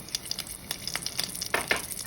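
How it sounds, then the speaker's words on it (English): Oil sizzles and crackles in a pan as a serrano pepper fries, with irregular sharp pops and spits over a steady frying hiss. "It's been a minute frying the chile, the serrano pepper."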